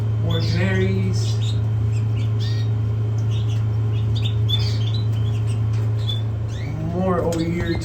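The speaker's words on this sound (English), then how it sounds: "More canaries." Canary mules in a mixed aviary, sharp chirps, squawks and trilling song phrases from several birds over a constant electrical hum, busiest at the start and end.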